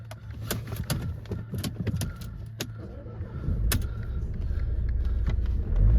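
A Mercedes-Benz C-Class 1.6 C200d diesel with about 97,000 miles sits inside with the doors closed. Key and switch clicks come first, then the engine fires midway and settles into a low, steady idle rumble with no speech.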